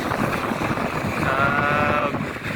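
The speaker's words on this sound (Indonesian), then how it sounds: "tongkang yang mau melintas di bawah ini" A barge passes beneath a bridge in strong wind, giving a steady low engine rumble with a faint tonal hum, under constant wind buffeting on the microphone and no talk.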